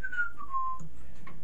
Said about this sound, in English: And you can whistle while you sharpen.